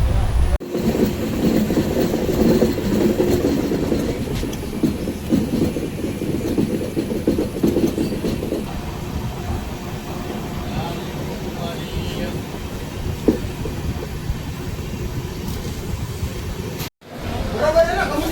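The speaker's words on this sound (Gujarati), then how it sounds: "મારી ટ્રેન હવે અહીંયા રોકાય છે" Continuous low rumble and rattle of a passenger train rolling on rails as it arrives at Ahmedabad Junction, steady throughout, with faint voices in the background and a brief dropout near the end.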